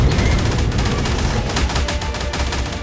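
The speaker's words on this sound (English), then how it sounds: "it turns into damage numbers, explosions all over the screen" Explosions and hits pile up during the Chaos Guardian boss battle in the video game ARK Primal Fear. The dense crackling barrage of blasts is loud and nonstop across the whole stretch.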